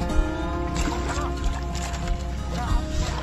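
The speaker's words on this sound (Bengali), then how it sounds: "এখন আরেক দাদা বসেছে নৌকা চালাতে" A wooden boat is rowed across water, with irregular splashes and sloshes from the oar strokes close by and gurgling along the hull, and no talking.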